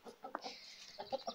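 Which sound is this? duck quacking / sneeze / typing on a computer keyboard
duck quacking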